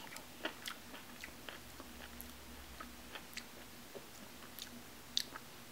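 Quiet, close chewing of a mushroom and cauliflower stir fry with rice and sriracha, with soft irregular crunchy bites spread over several seconds and no talking.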